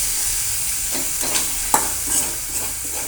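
Fried potatoes stirred with spice paste in a pan, giving a soft sizzle with a few scraping stirs and clinks, close up and alone.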